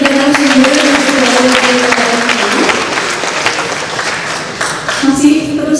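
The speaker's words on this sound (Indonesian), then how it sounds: "Kita tepuk tangan sekali buat ketiga narasumber yang sudah" A seminar audience at a military academy applauds three speakers, a dense, loud wash of clapping that holds steady for several seconds while a voice and tonal hum run underneath.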